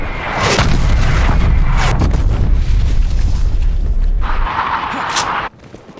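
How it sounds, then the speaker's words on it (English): Artillery strikes land in Call of Duty: Black Ops Cold War as loud, rumbling booms that blend into a sustained roar of blasts and debris before cutting off abruptly. "Artillery inbound."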